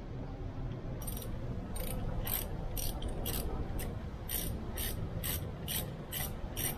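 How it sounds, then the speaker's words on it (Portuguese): A 10mm tool loosens valve cover screws on a Vectra/Astra engine with about a dozen evenly spaced, crisp ratcheting clicks over a steady low background rumble. "vamos começando a tirar os parafusos aí"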